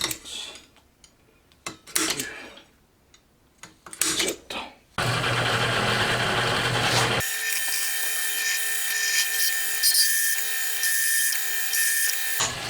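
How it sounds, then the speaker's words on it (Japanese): A hole saw cutting disc-shaped blanks from metal stock for a homemade camshaft: a few short, uneven bursts of cutting, then a loud, sustained, high grinding whine that runs on without a break, up close. "ホルソーで円盤状のものを切り出していきます"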